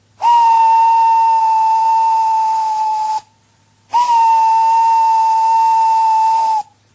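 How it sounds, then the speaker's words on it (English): Gordon the tank engine's steam whistle shrieks in two long, loud, steady blasts, each about three seconds, with a short gap between them and no voices. "Gordon went on whistling and whistling and whistling."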